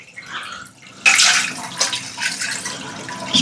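Water poured from a bucket into a toilet bowl gushes out in a sudden rush and keeps splashing and gurgling steadily, close by, after a quieter start.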